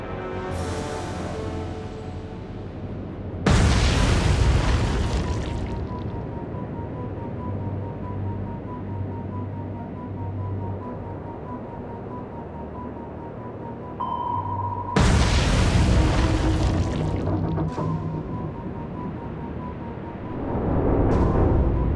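Naval guns firing in the Atlantic Fleet game, two heavy booming blasts several seconds apart, each followed by a long rumbling decay over a steady tone.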